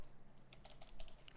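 Code is typed on a computer keyboard, a short burst of quiet, quick key clicks in an irregular rhythm, close but faint.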